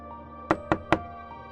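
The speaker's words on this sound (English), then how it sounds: "A soft, careful knock, like someone using only their knuckle. 3 taps." Three soft knuckle taps on a front door, quick and evenly spaced, fairly close and quiet, with near silence around them.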